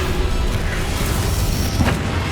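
A Confringo fire spell bursts during a Hogwarts Legacy boss fight against Ranrock, with a booming explosive blast over dense, continuous battle noise and a sharp burst near the end.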